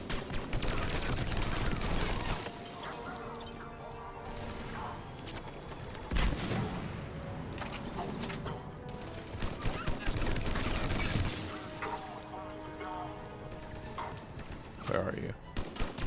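Gunfire during a Mass Effect 3 battle, rapid automatic bursts mixed with game sounds and voices talking, moderately loud with dense clattering stretches and brief lulls.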